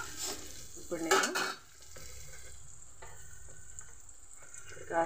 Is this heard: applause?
no